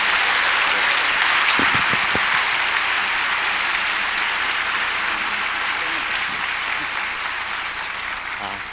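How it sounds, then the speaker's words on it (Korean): An audience at a Christian teachers' conference lecture gives steady, dense applause that carries on for several seconds and slowly tapers. "격려의 박수 한 번 더 부탁드립니다"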